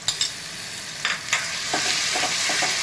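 Garlic, ginger and green chilli paste frying in oil for a mutton curry, a bright continuous sizzle punctuated by several sharp scraping stirs of a spatula against the pan, close and clear.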